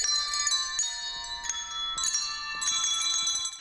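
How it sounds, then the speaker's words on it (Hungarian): Children ring a tune on handbells in close unison, bright clear tones struck one after another in a steady rhythm and left to ring, with no talk over them. "Tökéletes összhangban adtak elő csengettyűkkel egy dalt a gyerekek."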